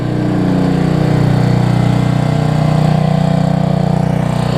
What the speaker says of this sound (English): generator out and running.